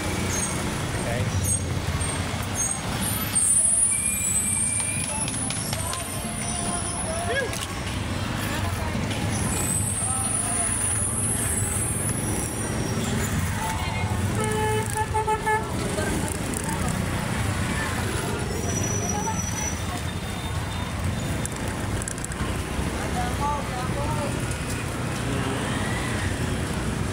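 Steady street traffic rumble with passing cars and trucks and an occasional air-brake hiss, continuous and fairly loud, with a voice talking intermittently over it.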